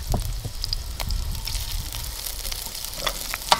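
Onion fries in lard with a close, steady crackling sizzle and scattered pops, continuous throughout.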